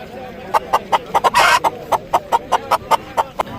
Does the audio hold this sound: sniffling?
no